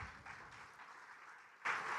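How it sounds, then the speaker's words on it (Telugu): A church congregation claps briefly during a sermon, faint and distant, with a louder burst of clapping near the end. "ఒకసారి చప్పట్లు కొడతామా దేవునికి?"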